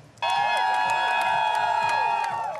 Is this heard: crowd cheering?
yes